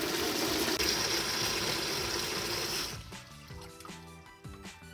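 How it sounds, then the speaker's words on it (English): Cold water gushes through a beverage faucet hose from a T adapter while the lines are flushed, a loud steady rush for about three seconds before it is shut off and only quieter dripping and clinks remain. "turn on my cold water stop and also my T adapter to allow water to start flowing through my hose"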